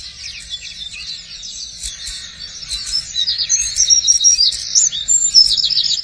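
A woodpecker mother and her fledged chick give high, sharp chirping calls in repeated bursts that grow louder and busier toward the end, close and clear over a quiet woodland background.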